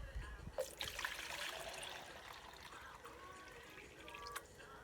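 Fresh water pours into a container as a soft, continuous trickle and splash, close but quiet, tapering slightly toward the end without talk over it.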